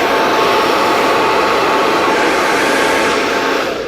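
A hair dryer set to the cool shot blows a loud, steady, broadband whoosh at close range while hair is dried over a round brush, with no voices.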